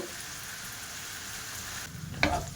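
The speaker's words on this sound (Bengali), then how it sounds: "মশলাটা কষিয়ে কষিয়ে ভালো করে গলিয়ে নেব একটু লবণ দিয়ে দেব" Spice paste sizzles steadily in a pan with salt added, a continuous hiss of frying, followed near the end by a louder scrape and clatter of stirring.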